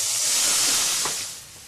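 Oil hisses and sizzles steadily in a hot pan while a Mexican dish with rose-infused water and squash blossoms is prepared, a broad continuous hiss that swells slightly then eases near the end, with no talking.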